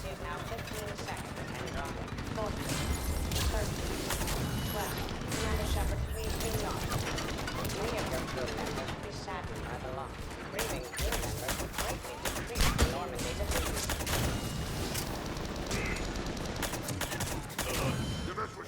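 Rapid bursts of gunfire from DLC weapons in the video game Mass Effect 3 fill a busy combat scene, with sharp repeated shots and clatter layered under voices.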